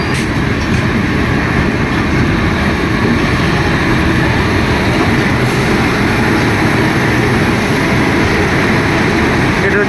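East Coast Express train pulling into Visakhapatnam station, a loud, steady rumble of rolling wagons heard from on board, continuous and dense throughout with no clear breaks.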